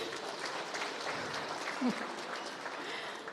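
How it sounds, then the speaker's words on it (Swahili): An audience at a political gathering in Nyandarua, Kenya applauds, a dense wash of clapping that holds steady at a moderate distance, with a brief voice surfacing over it. "Tumpigie makofi tafadhali."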